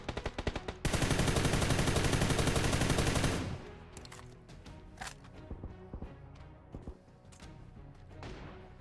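Gunfire in the battle royale game PUBG New State, a few quick shots leading into a long dense automatic burst, then scattered, fainter shots and impacts.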